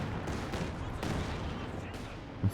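Cluster bombs going off in a war strategy game, a rapid rolling series of muffled blasts and crackles in the distance, steady and fairly faint, with brief speech-like sounds mixed in.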